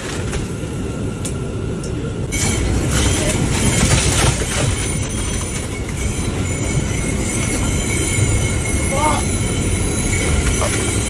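Subway train ride in motion: a loud, steady rumble of wheels on track with rattling carriage noise and occasional high squeals, continuous from start to finish.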